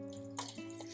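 Water trickles from a watering vessel into a plant pot freshly planted with succulent stem and node cuttings in soil mix, a faint, steady pouring splash with a few soft drips, close and quiet under a low background hum.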